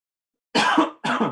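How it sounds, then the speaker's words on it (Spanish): Two sharp coughs in quick succession, close and loud, after a moment of silence. "la tos ha venido con el final de la presentación"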